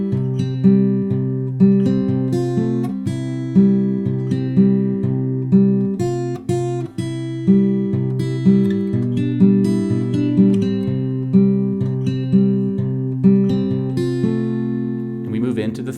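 Fingerstyle acoustic guitar picks the opening measures of a song: steady alternating bass notes under plucked melody tones, close and clear, in an even unhurried rhythm with no voice over it.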